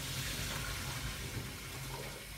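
Cold tap water pours steadily over drained rice noodles for Pad Thai, a soft continuous splashing rush with no break, fairly quiet and close.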